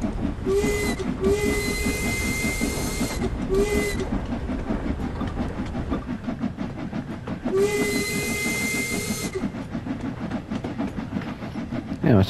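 A steam train whistle in Train Sim World 2 on the Liverpool to Crewe line sounds in several blasts, two short toots then a long one, later another sustained blast, over a steady rhythmic chuffing and hiss.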